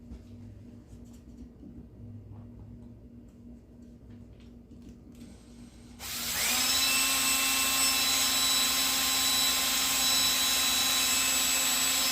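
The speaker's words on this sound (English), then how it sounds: "Now let's do some drilling." A power drill starts abruptly partway through and keeps whining at a steady high pitch, loud and close, after a quieter stretch of faint handling noise.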